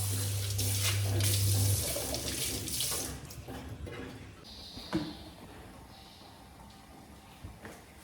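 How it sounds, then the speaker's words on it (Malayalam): Water runs from a tap with splashing, loudest at first and then easing off, followed by quieter clinks and drips. "കുറേ പാത്രങ്ങൾ കൊണ്ടുപോയിട്ട് കഴുകാം"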